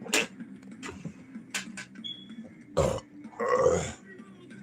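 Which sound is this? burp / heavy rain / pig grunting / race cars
burp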